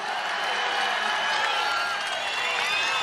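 An audience claps and cheers for superstar Rajinikanth at an NTR centenary celebration, a dense, steady roar of applause from a large crowd that holds at full strength from start to finish.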